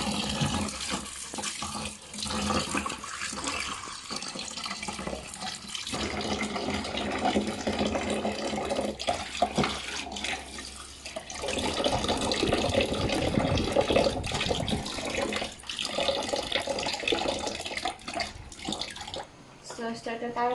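Tap water runs steadily into a sink as winged beans are rinsed, making a continuous splashing gush with shifting, bubbly textures and a voice speaking intermittently over it.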